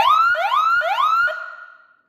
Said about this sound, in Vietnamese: Tiếng xe cảnh sát.